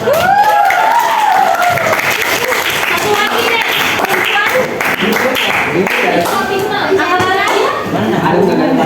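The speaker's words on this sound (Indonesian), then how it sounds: "Oke, tepuk tangan dulu buat" Classroom applause during a school lesson, children clapping together in a loud, steady burst under lively chatter and children's voices throughout.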